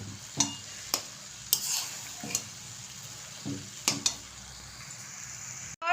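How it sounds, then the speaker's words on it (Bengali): Salted grated carrots being stirred in a pan for carrot halwa, giving a steady low sizzle with several distinct scraping strokes spread through the stretch, close and moderately loud. "এটাকে মাঝে মাঝে হচ্ছে এরকম নেড়ে চেড়ে দেব জল বেরোনোর জন্য"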